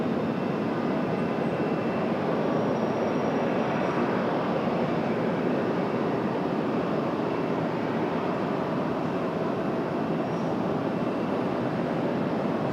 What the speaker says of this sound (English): So here we go, another CRJ departure.